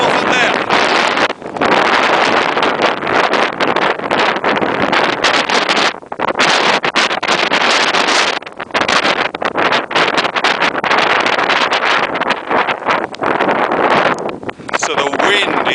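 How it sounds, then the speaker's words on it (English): Strong outdoor wind buffets an unshielded microphone, producing loud, continuous, roaring rumble and blasting gusts that fill the whole stretch with only brief dips. "I'm not one for muffling the wind, otherwise it ruins the effect of actually what's going on."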